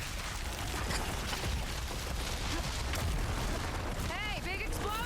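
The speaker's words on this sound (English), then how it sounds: "Hey, big explosion! Watch out!" A big explosion in the video game Horizon Forbidden West rumbles loudly and keeps booming, with a player's voice talking over it and brief game sounds near the end.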